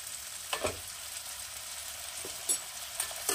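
Bengali-style spice masala with a spoonful of whisked sour yogurt sautéing on a low flame for a winter vegetable curry: a soft, steady sizzle with a few sharper clinks from stirring.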